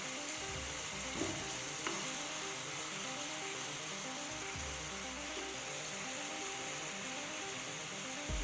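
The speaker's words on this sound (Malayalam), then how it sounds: "മീഡിയം ടു ലോ ഫ്ലെയിമിലിട്ട് വേണം നമ്മളിത് ഫ്രൈ ചെയ്ത് എടുക്കാനായിട്ട്." Pineapple pieces fry in ghee with sugar in a pan over medium-low flame, giving a steady, even sizzle throughout with a few faint knocks underneath.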